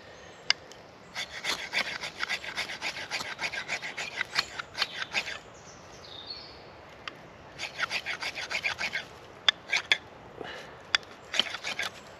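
A survival knife scrapes a hard composite ferro rod in two runs of quick rasping strokes separated by a pause, close and fairly quiet, with no talk.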